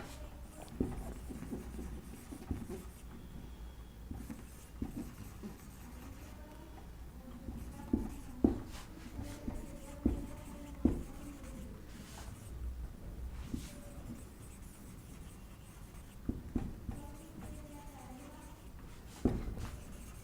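Chalk or marker writing on a board during a biology lesson, with short scratchy strokes and taps in an irregular rhythm, close and moderately loud throughout, with no talking.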